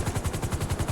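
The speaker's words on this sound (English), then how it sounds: "Oh no, I got shot." A quick volley of gunshots in a video game roleplay sounds as a short, evenly spaced string of about nine rapid pops at moderate loudness, with no speech.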